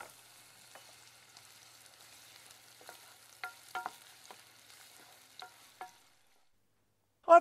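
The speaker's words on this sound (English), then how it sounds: "I've put a little oil into a saucepan and I'm going to fry the onions until they go golden" Onions frying in a little oil in a saucepan, a faint soft sizzle with a few sharp pops and clinks, then a sudden hush before a brief louder knock at the end.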